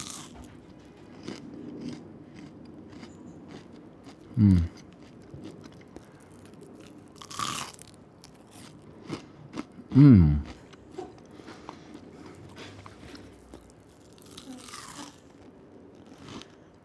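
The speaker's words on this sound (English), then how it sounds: "Onion rings crunch." Crispy baked onion rings are bitten into with two loud, sharp crunches a few seconds apart, close to the microphone, separated by quieter chewing and faint handling noise.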